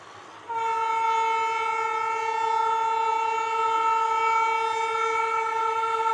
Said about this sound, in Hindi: ये डाउन लाइन पर आप देख सकते हैं किस प्रकार से धीमे धीमे स्टेशन की तरफ ट्रेन पहुंच रही है यहाँ पर,